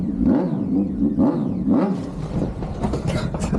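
Small engine of a Hornet minitruck project revving with repeated throttle blips, rising and falling rasps close by, followed by rougher clattering idle.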